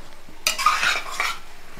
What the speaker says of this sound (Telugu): ఇప్పుడు ఇది వేగాలన్నమాట.